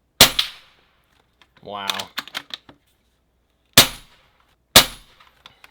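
Three sharp gunshots fired with night vision goggles, widely spaced, loud and close with short echoing tails, plus a short burst of clattering noise and a brief spoken remark between them.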